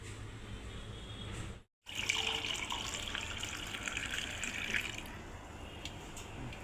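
Liquid being poured while making lemon sharbat: a running, splashing pour that stops briefly, then continues steadily for several seconds, close and fairly soft.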